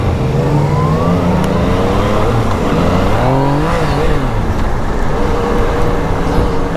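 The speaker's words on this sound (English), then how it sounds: "This is a good bike to ride in town, in and around town." Steady, loud engine noise comes from a Yamaha FZ-09 motorcycle being ridden around town, its pitch rising and falling as it revs and shifts, with wind rush throughout and no talk.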